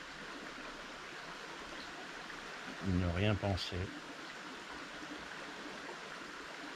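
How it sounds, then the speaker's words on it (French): A river stream flowing on a hot-weather hike in the Haute-Loire countryside, a steady close broadband rush of water throughout, with someone speaking briefly partway through. "le bruit de la rivière"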